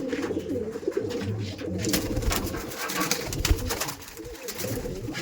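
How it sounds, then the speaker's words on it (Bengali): Madrasi pigeons released by hand and flying off, a dense mix of cooing and fluttering bursts close by against steady background noise. "দুটো পায়রা আজকে আমি উড়িয়ে দেখিয়েই দিলাম"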